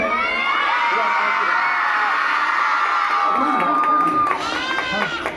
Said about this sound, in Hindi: तो आप सबकी जोरदार चिल्लाहट के बीच में